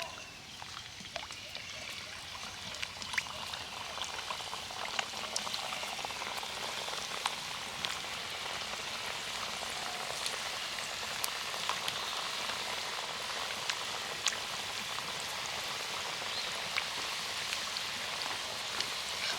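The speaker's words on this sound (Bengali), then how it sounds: "এবার তুলে নেব বাকিগুলো একইভাবে ভেজে নেব" Small gaja sweets deep frying in hot oil over a medium flame, giving a steady, dense crackling and bubbling that stays even throughout, with no talking.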